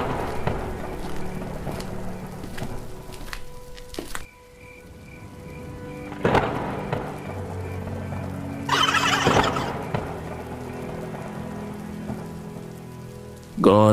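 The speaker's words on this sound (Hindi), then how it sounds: "बारिश और तेज हो चुकी है।" Heavy rain pours at night on a deserted road, a steady loud wash of falling water with brief thuds and other effects cutting in over it.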